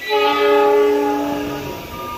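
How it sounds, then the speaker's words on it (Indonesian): A loud, sustained train horn blares close by at a station as the Logawa train prepares to enter track 2, its tone held steady and then fading out over a low rumble of rail noise. "Ini persiapan kereta api Logawa, persiapan masuk di jalur 2 tujuan akhir Jember."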